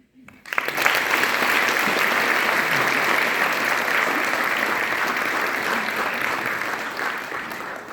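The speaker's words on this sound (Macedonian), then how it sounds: "Ве повикуваме со еден огромен аплауз да ги поздравиме." An audience at a school theatre evening bursts into loud, sustained applause to welcome student performers, starting abruptly and continuing evenly to the end.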